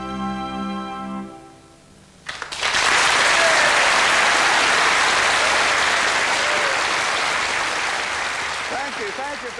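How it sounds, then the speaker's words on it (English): A sung tune fades out, then a TV studio audience breaks into loud, sustained clapping that stays dense and steady, tapering slightly at the end. "the audience would clap"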